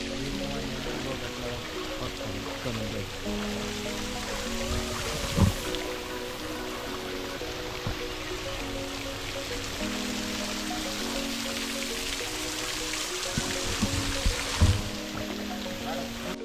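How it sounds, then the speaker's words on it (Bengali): Water pouring steadily from an artificial waterfall at a resort park, a constant broad rushing wash that fills the background while people talk over it and music-like tones sit underneath. "এই জায়গাতে কৃত্রিম যে ঝর্ণাটা মানে তৈরি করছে আসলে অনেক সুন্দর"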